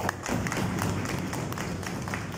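An audience claps at a rally of an airport workers' union against airport outsourcing, with dense steady applause and scattered sharper claps and thumps heard close by, and no voices.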